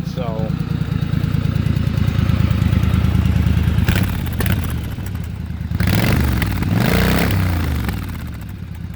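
A 1992 Yamaha Virago 1100 motorcycle engine runs at a steady, low rumbling idle close by, with someone talking over it partway through.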